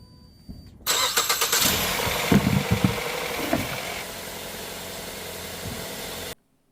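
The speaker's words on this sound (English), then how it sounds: "we're gonna go turn on the car and check for leaks" A 2009 Ford Fusion engine cranks and starts after a quiet pause, with a few loud revving bursts before it settles into a steady, close idle that runs until the sound cuts off.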